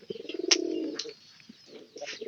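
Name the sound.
pigeon cooing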